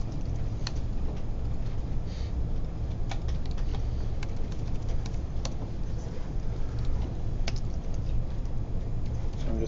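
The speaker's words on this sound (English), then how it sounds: "I'm just typing in scratched glass texture in a Google search real quick" Quiet keystrokes on a computer keyboard entering a web search, a scattering of light, irregular taps over a low steady background hum, with no voices.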